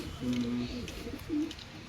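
Pigeons coo nearby in soft low rolling calls, a couple of distinct phrases over a dull background hum.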